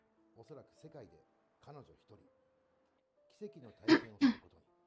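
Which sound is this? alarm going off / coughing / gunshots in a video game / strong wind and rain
coughing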